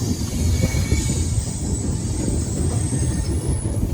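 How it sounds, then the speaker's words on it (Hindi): Steady rumble of the Delhi Pathankot SF Express passenger train running on its rails, a continuous loud low roar with faint wheel squeal and rattle, close and with no talking. "जिस ट्रेन से मैं जा रहा हूं ना, दिल्ली पठानकोट एक्सप्रेस, सबसे बढ़िया ट्रेन है।"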